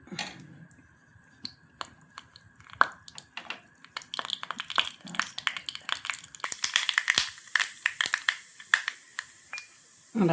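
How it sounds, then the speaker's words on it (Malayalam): Mustard seeds crackle and pop in hot oil, sparse snaps at first building into a dense, rapid sizzle of sharp crackles close up. "കടുക് പൊട്ടി."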